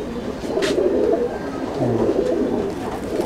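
Chennai breed pigeons cooing in a loft, soft low throaty coos repeating over a steady background murmur, close and moderately quiet, with a brief higher sound early on.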